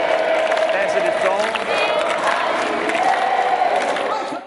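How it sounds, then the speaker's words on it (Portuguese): A big stadium crowd at an opening ceremony roars and cheers continuously, a dense loud wall of voices with whistles and shouts that holds steady before fading at the end. "A animação da plateia deu o tom da festa"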